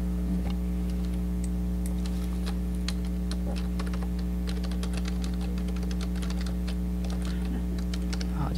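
Quick keyboard typing, a dense run of light clicks and taps over a steady low electrical hum, continuous and fairly close with no talking.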